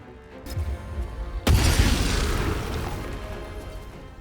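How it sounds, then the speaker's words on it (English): A Haste Spore Grenade from Baldur's Gate 3 goes off in a sudden loud boom with a broad burst, preceded by a soft thump, and then a long wash of rumbling noise slowly fading. "let's do a Haste Spore Grenade, I think."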